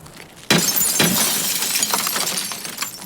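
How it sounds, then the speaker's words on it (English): In Escape From Tarkov, a character's back knocks into the glass of a bus, giving a sudden sharp crash with a bright shattering crackle that rings on and fades, followed by a second hit. "It's just my back hitting the glass of the bus."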